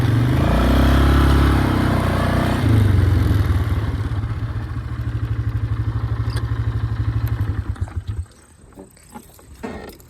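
A Polaris Scrambler 500 ATV engine revs hard and loud with a throbbing, pulsing roar for about eight seconds, then cuts off abruptly, leaving faint clatter and quiet behind.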